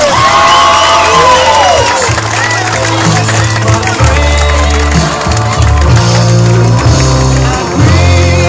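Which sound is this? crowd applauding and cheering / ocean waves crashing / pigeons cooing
crowd applauding and cheering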